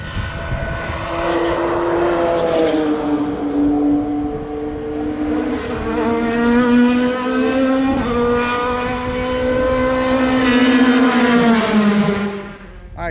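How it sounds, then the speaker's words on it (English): Loud race cars running laps at Road Atlanta, a steady engine drone from one car whose pitch falls and rises as it passes and sweeps around the track. No talking. "there's some guys running the track right now that are very loud, sound super cool"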